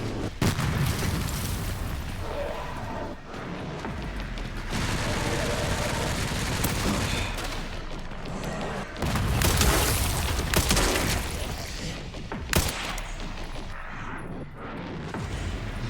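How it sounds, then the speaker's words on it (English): Dense bursts of gunfire with booming grenade and mortar explosions in the zombie shooter Resident Evil 9: Requiem, loud and continuous, with several heavier blasts standing out. "maybe I should throw a grenade. And use the mortar."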